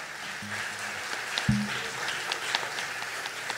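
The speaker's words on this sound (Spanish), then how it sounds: "Un fuerte aplauso a los chicos que nos acompañan." A concert audience applauds at the start of a music performance, a faint, diffuse patter of clapping with a few low thuds.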